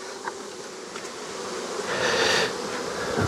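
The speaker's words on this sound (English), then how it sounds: "A lot of bees in here yet." Honey bees buzzing steadily inside an observation hive, a dense close-up hum that swells slightly louder toward the end.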